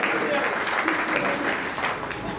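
An audience at a Hindi poetry recital claps in a steady, fairly loud burst of applause that fades slightly toward the end, with some voices mixed in beneath the clapping.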